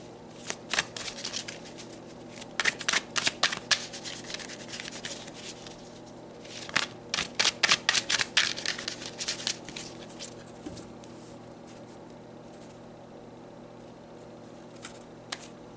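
Tarot cards shuffled by hand, with bursts of crisp riffling and flicking in two main clusters separated by quieter handling, close and alone with no talk.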